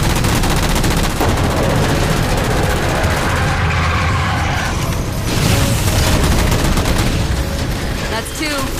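Rapid gunfire from the Halo 4 video game as jammers are shot down, loud bursts of shooting layered with booms and dense game sound for the whole stretch, with a voice talking over it.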